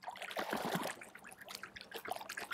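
Water trickles and dribbles around a Penn Slammer III spinning reel held just under the surface, a close, steady burbling with small splashes throughout and no talk.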